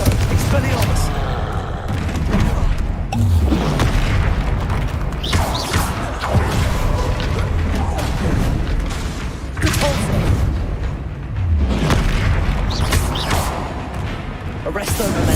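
Spell blasts from the Hogwarts Legacy video game fill the scene with repeated booming impacts, creaks and bursts of crackling magic in dense, loud waves, along with game voices and background score.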